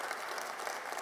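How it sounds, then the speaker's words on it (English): A conference audience at a DrupalCon Dublin 2016 session applauds, a dense, steady wash of many hands clapping throughout, loud and without pause. "Please, a round of applause"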